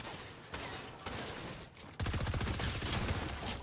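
A few scattered gunshots give way to a sustained burst of rapid automatic fire from a fast-firing SMG in a video game, loud and close, rattling on without pause.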